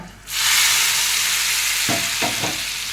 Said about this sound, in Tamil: இப்போ வந்து நல்லெண்ணெய் விட்டு காஞ்சதுக்கப்புறம் சுண்டக்காய் வத்தல், மணத்தக்காளி வத்தல் இது அப்படியே லைட்டாக பொரிஞ்சதும் அப்படியே குழம்புல போட்டுற வேண்டியதான்